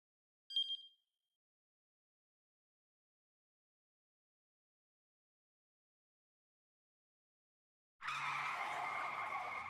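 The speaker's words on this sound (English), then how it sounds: "The taxi's tires squealed as the cab rounded a corner." Taxi tires squealing as the cab swings around a corner in the game 428 Shibuya Scramble: a short chime first, then a long, loud skidding screech after a stretch of silence.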